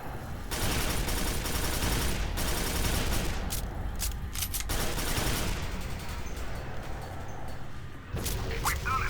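Rapid weapon fire in the Quake 4 video game, a dense barrage of loud, overlapping shots running almost without a break, with a brief dip near the end before the firing resumes.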